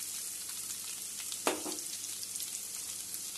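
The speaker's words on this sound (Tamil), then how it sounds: "வெங்காயத்தை போடுறேன்" Onions fry in a pan with a quiet, steady sizzle and a single soft knock of a utensil partway through.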